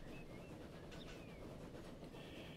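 A train in the Transport Fever 2 game rolls along the rails with a steady low rumble and faint squeals, quiet and continuous throughout.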